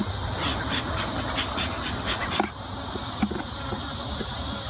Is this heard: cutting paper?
no